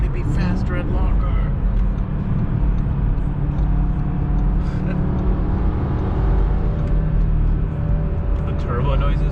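Audi RS3 turbo engine droning steadily from inside a moving car at cruising speed, a constant low rumble with road noise and occasional whooshes, while people talk over it throughout.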